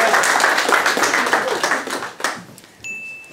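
Audience applause for a performer at a French stage show, a dense burst of claps that fades out after about two seconds, followed by a brief ping and quiet room tone.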